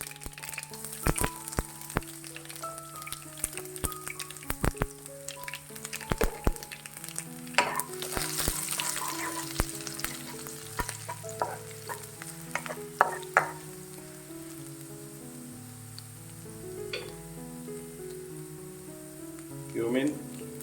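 Chopped garlic sizzles and fries in a pan alongside urad dal, with a steady crackling hiss, scattered clinks of stirring and a background tune running throughout.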